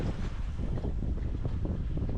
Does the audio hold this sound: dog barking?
no